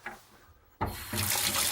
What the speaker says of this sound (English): fill this up with water like this